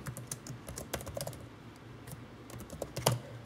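Someone types on a computer keyboard, a quick, uneven patter of close key clicks with a few sharper taps, and no talking over it.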